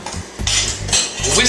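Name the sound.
whisking cookie batter in a bowl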